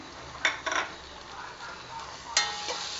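Goat meat stirred with onion and ginger-garlic paste in a pot: soft frying sizzle broken by a few sharp clinks and scrapes of a spoon against the metal.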